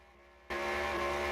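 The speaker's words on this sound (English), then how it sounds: "Listen to those tires scream." Race truck tires screaming in a racing video game during a Daytona victory celebration, a loud sustained squeal with engine roar that bursts in abruptly after a quiet half-second and holds steady to the end.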